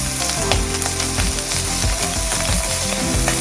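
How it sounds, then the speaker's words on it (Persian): Sausages frying in a pan for an English breakfast, a loud, steady close-up sizzle with crackling pops and a few low knocks, continuous and with no one speaking. "حالا نوبت سوسیس‌های محترم، اونا رو هم سرخ"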